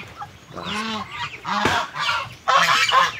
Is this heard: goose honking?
yes